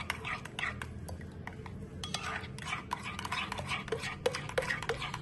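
A spoon stirs hot tadka tempering into yogurt for besan dahi bhalle, giving soft repeated clinks and scrapes against the bowl at close range, in short irregular bursts.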